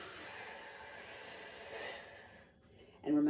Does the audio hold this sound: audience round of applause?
no